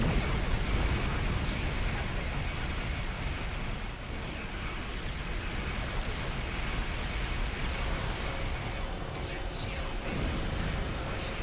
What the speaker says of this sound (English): Oh, this is the cutting beam. That seems to be working okay.